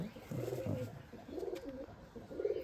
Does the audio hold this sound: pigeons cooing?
yes